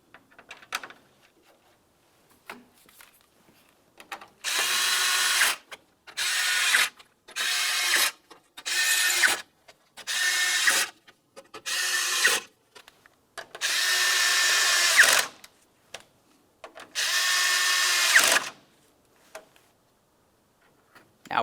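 A power drill drives 5.5mm radiator mounting screws along the front of a 2009-2019 Ford Flex: eight or so loud whirring bursts of a few seconds each, separated by short pauses and faint ratcheting clicks, close up with no talk.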